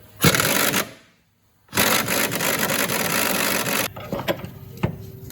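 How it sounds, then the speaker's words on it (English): A pneumatic air impact gun works a 15mm nut loose on a Ford Focus, giving two loud, harsh, sustained bursts split by a short silence, then lighter clanks and scrapes. "Undo that 15mm. Keep the air gun pushed upward while you're trying to undo it."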